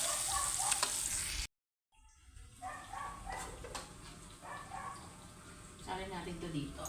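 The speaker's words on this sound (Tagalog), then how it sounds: "After nito, prito naman tayo ng tilapia." Oil sizzles steadily as tilapia fries, through most of the stretch, broken by a brief silent gap, with clatter and occasional voices over the frying.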